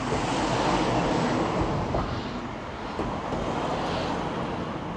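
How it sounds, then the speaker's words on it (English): Gusty wind sweeps across the open water at Goole port, a steady broadband rush with rippling water beneath, continuous and loud throughout with no voices. "It's a bit windy here."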